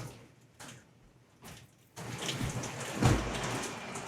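Heavy rain pours down steadily, starting softer with a few quiet patches and then swelling into a dense, loud broadband hiss with a brief heavier surge near the end.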